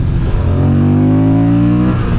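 Moto Guzzi Stelvio motorcycle engine accelerating, a loud, close, steady growl with the pitch climbing smoothly through the rev range, heard alone without talk.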